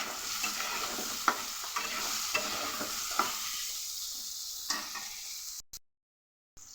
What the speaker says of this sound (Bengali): আমার আলু আর বেগুনটা একেবারে লাল করে ভেজে নিয়েছি